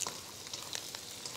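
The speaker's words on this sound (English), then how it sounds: "while I'm frying this" Crushed kaffir lime leaves fry in hot oil for sambal, giving a close, steady sizzle with small crackling pops throughout.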